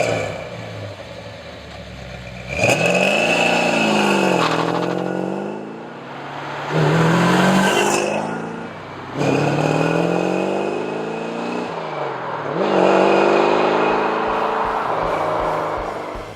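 A 1968-1969 Chevrolet Corvette fitted with a Flowmaster 817660 performance exhaust system revs several times. Each swell of engine pitch rises and falls back toward idle, loud and close, with no talking.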